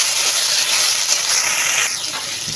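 Ridge gourd and eggplant dropped into hot oil with nigella seeds, giving a loud, hissing steam-like sizzle that surges and then eases over a couple of seconds.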